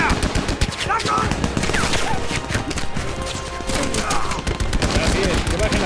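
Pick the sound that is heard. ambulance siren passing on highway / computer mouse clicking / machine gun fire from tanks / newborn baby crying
machine gun fire from tanks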